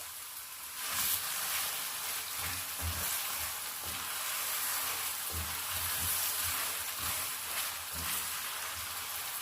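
Salted chicken pieces fry in a pan for a chicken and cauliflower curry, producing a loud, continuous hissing sizzle with faint low bumps from occasional stirring.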